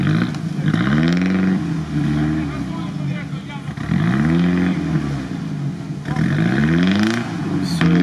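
A petrol-engined UAZ off-road vehicle at the RFC Ukraine 2020 off-road competition, Tolokun stage, revs hard in repeated rising surges, loud and close, with mechanical clatter between them and people talking in the background.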